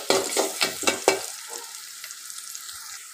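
Oil hitting a cooking pot on the stove before meat goes in: a quick run of about five sharp, rhythmic clattering sizzles up close, then a softer fading hiss with a few faint ticks.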